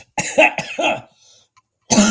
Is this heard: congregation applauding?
no